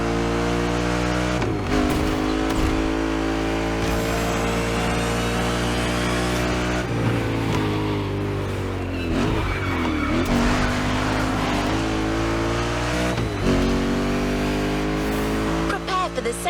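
A Mustang Boss 429 muscle car in The Crew Motorfest roars loudly and continuously, its engine revving up and dropping through gear shifts with tire squeal, a steady heavy drone throughout.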